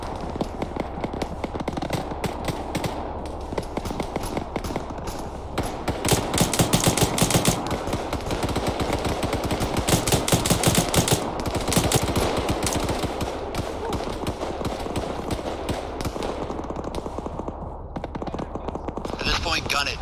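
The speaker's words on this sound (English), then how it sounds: "Multiple 50 cals firing out of the town." Several .50 caliber machine guns firing in the video game Arma 3: dense, rapid bursts of automatic gunfire overlapping continuously, some loud and close, others more distant, with voices talking over the shooting.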